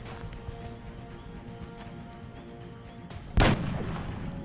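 In the XCOM: Long War strategy game, a single sharp gunshot cracks out loud and sudden after a few seconds of low ambient rumble, followed by a lingering rumbling tail.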